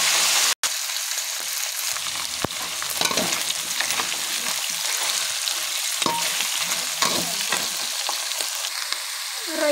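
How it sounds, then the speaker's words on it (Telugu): Prawns fry in a pan with a steady sizzle throughout, and repeated scraping and stirring clatter sounds over it. A short sharp knock comes near the start, and no one speaks. "రొయ్యలు గోల్డ్ కలర్లో రావాలి. 2 నిమిషాలు వేయించుకోవాలి. మధ్య మధ్యలో కలుపుతూ ఉండండి"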